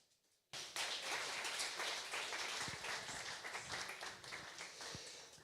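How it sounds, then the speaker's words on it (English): Audience applause after a demo presentation at a cloud native data management conference, breaking out abruptly from near silence into loud, sustained clapping from many hands that eases slightly toward the end. "So big applause here for a great presentation and a demo"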